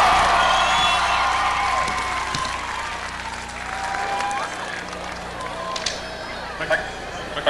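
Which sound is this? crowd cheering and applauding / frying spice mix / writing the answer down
crowd cheering and applauding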